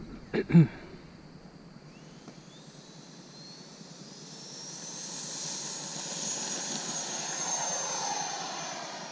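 A Freewing F-22 Raptor 90mm electric RC jet with a 12-blade inrunner fan takes off outdoors. A couple of sharp knocks come first, then a thin whine builds and swells steadily as the model accelerates, heard from nearby.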